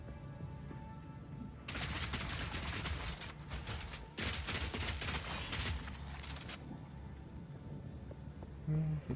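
Rapid gunfire from a weapon in the video game Path of Exile 2 hits heavily armored enemies, with dense bursts of shots in two stretches separated by a short break, loud and close over a low ambient game background.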